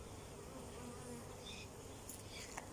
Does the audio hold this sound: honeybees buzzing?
yes